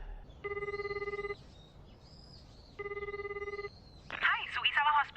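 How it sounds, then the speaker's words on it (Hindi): A telephone rings twice in a Hindi-dubbed Jujutsu Kaisen anime scene, each steady electronic ring separated by a pause, before a voice starts talking. "आपके लिए फोन है।"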